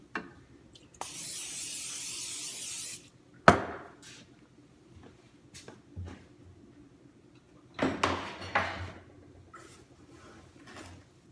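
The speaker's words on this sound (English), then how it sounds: "Let's spray this one and cover it" Shaped milk bread dough on a sheet tray is sprayed before proofing: a steady two-second hiss of spray, followed by a sharp clatter and a few quieter thumps and rustles of handling.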